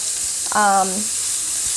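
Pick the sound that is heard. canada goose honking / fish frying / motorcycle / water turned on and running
fish frying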